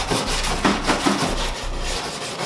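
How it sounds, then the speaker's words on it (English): A wire brush scrapes hardened residue off a metal engine part for a 347 stroker build, giving a steady, close, rough rasping scrub with a few stronger strokes and no talk. "You just take the wire brush and just scrape it off."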